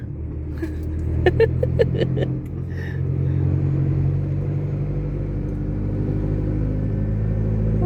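A Kubota SR-J3 combine harvester being driven along a road, its engine a steady low rumble that swells and holds, with a few sharp clanks near the start.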